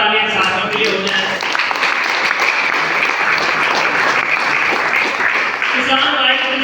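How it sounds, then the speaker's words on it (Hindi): Loud, sustained applause from an audience at a gathering, dense clapping filling the whole stretch with voices talking over it at the start and end. "एक बार जोरदार तालियां साथियों के लिए हो जाए।"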